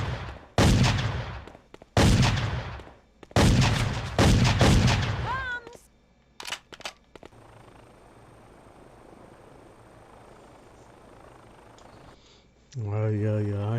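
Gunshots in a video game ring out as several sharp, loud bursts mixed with voices, then fade into a quieter stretch of low background rumble.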